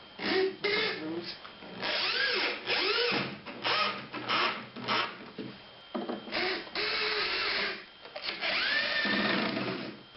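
A power drill drives 1 5/8-inch galvanized decking screws into a wooden wheelchair ramp outdoors, whirring in repeated short bursts that rise and fall in pitch, with brief pauses between screws.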